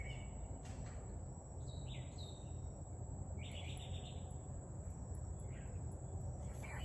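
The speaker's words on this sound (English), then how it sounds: "Can you hear the mockingbirds?" Mockingbirds chatter on an evening lanai, with short, bright chirps and trills coming and going over a steady, dense hum of insects and outdoor background.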